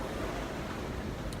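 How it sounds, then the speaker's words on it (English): Rough seas of eight to ten feet during a sailing passage from Chesapeake to Bermuda produce a steady, broad wash of waves and wind noise that roars continuously with no break. "waves have picked up. We're moving fast,"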